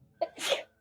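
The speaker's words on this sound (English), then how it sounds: "Oh, I got to sneeze." A single close, sharp human sneeze, with a brief intake followed by a loud burst, heard alone during a tabletop role-playing session.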